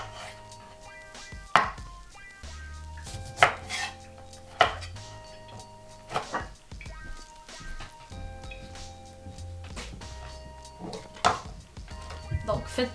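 A knife cuts through a lime on a board for a shrimp pad thai, with several distinct, close knocks and thuds spaced irregularly while a person talks over them.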